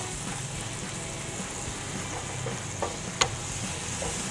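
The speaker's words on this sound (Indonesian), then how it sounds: "Kita aduk dulu ya" Butter shrimp being stirred in a frying pan, a steady sizzle with occasional scraping and a sharp clink of the utensil against the pan, close up.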